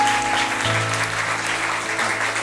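A church congregation at a Wednesday worship service in Daejeon applauds God, a steady, dense wash of clapping that fills the room at even loudness throughout with a low sustained tone beneath.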